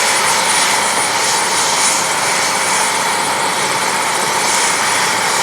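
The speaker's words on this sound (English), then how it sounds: "Helicopter came in" Steady, loud helicopter rotor and engine drone, continuous and close, with no talking.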